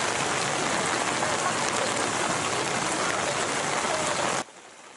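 Heavy rain in a mountain area during a flooding downpour: a dense, loud, steady hiss that pours without a break, then drops sharply to a faint wash near the end.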